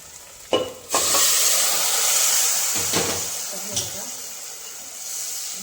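Chicken dropped into hot oil with whole spices for biryani, a sudden loud burst of sizzling that settles into a steady hiss, with a few stirring knocks and clinks along the way.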